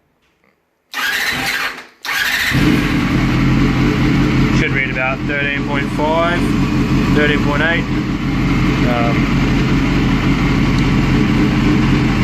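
A Honda CBR250RR MC22 motorcycle engine idles steadily with a low, continuous rumble throughout, while someone talks over it.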